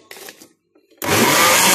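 A kitchen blender mixing homemade Nutella with milk powder and cocoa kicks on abruptly after a short stretch of talking. It runs at a loud, steady, close whir to the end.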